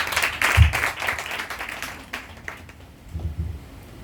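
Congregation applauding inside a church during a French-language service, scattered clapping rising and fading in short bursts, moderately close, with a few low thumps and a faint voice near the end.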